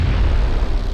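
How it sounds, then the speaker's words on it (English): A loud, close explosion in the battle royale video game PUBG, with a dense, deep rumbling roar that fills the whole moment and barely fades. "Yeah, it's an explosion."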